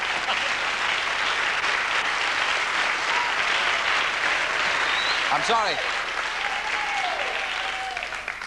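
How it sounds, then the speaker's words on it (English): Sustained studio audience applause on a television chat show, a steady loud roar of clapping throughout with a voice briefly speaking over it. "You had to sustain your applause a little longer than usual."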